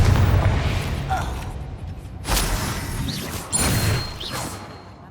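A Confringo fire spell goes off in the video game Hogwarts Legacy with whooshing bursts and two loud crashing explosions. The blasts sit over a rumbling battle background with faint whistling effects.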